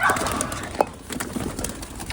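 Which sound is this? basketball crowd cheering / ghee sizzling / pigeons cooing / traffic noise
pigeons cooing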